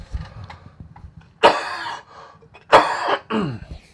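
Someone coughs and clears their throat in a few harsh bursts, close and alone against a quiet room.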